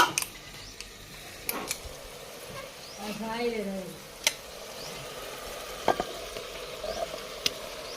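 Chicken stirred into a pan of softened tomatoes and potatoes, giving a faint sizzle with scattered scrapes and clicks of a utensil, quiet and close, with a brief voice in between.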